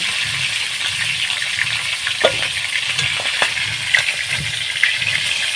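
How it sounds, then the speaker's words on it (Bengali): Close, continuous sizzling of food frying in hot oil in a home kitchen, with a few light clinks and scrapes of a utensil against the pan rising over the crackle. "এবারে আমি এই তেলের মধ্যে ভেজে নেব"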